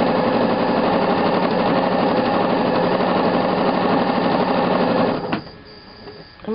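An Elna sewing machine runs steadily as it stitches a branching fill pattern, a loud continuous mechanical chatter that stops abruptly near the end, leaving quieter handling noises.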